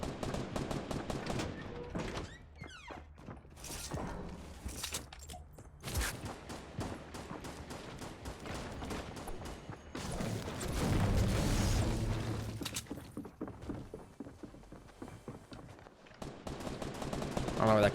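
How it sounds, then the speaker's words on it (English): Gunfire in the video game Fortnite, bursts of rapid automatic fire alternating with single shots and booms, loud and close over a long stretch, with talk in between. "Shots over there."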